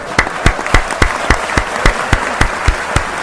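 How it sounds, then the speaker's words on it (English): Applause sound effect of rhythmic, evenly spaced claps, about a dozen sharp strikes in a steady beat, loud and close with no voices over it. "Let's give Harada a round of applause"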